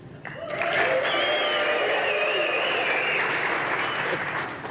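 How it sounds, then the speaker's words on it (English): An audience cheers and applauds for John, a loud swelling roar of whoops, whistles and voices with clapping mixed in, rising quickly and holding strong before easing off. "So I want you to give John a round of applause, but with bells and whistles."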